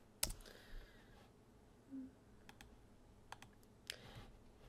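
Quiet typing on a computer keyboard, scattered clicks and short bursts of keystrokes at irregular intervals, close but faint in a calm room.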